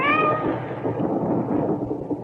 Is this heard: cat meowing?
yes